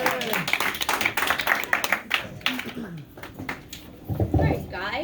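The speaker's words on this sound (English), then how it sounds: "Give her an extra round of applause for Jenna Lee-Speldy." Audience applause and clapping for a comedian at a standup comedy show, a crowd response of scattered hand claps with a host talking over them and a brief louder burst near the end.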